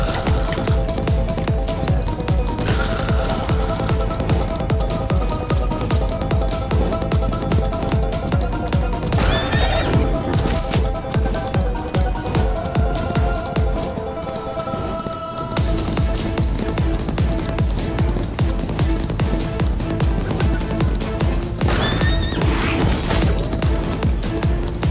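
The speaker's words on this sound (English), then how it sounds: "I like how fast the horse you can get across the map pretty good with this fast mount" A horse mount galloping and neighing in the Western video game Far Far West, with steady rapid hoofbeats throughout, loud and close, and several whinnies rising above the gallop.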